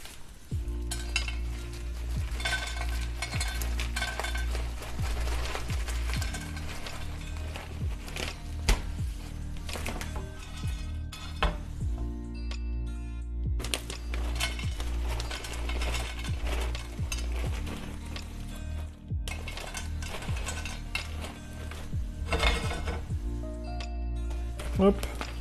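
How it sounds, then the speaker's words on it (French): Peanuts toast in a small frying pan, giving a soft steady sizzle with occasional scrapes and stirring clinks, close by, while a person talks over it. "Les petites cacahuètes qui vont griller, tranquille"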